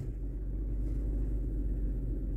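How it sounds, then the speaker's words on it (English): A 2003 Chevy Monte Carlo engine held at wide open throttle against the brake, a steady loud low rumble that drones on without a break. "Wide open throttle, test in progress."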